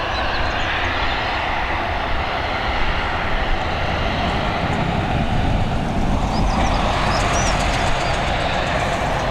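An airplane landing at Dublin Airport in the evening, with its nose wheel being lowered, produces a loud, steady engine roar that rumbles on without a break from start to finish.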